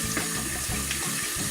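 Tap water runs into a sink while a toothbrush is rinsed under it. The flow is steady and close, with a few brief splashing shifts as the brush moves through the stream, and no one speaks.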